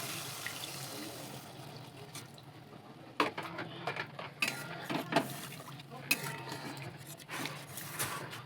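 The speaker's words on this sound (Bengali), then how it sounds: "এবার দিয়ে দেবো পরিমাণ মতো জল।" Water poured into a pan of fish curry, a quiet, steady liquid hiss broken by a few sharp clinks of a utensil against the pan.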